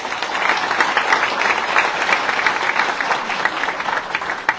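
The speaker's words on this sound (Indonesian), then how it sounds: "Siapa di sini yang datang dengan kendaraan pribadi boleh tepuk tangan?" An audience at a talk claps in response to a show-of-hands question, a steady, fairly loud wash of many hands clapping together, sustained evenly for several seconds with no talk over it.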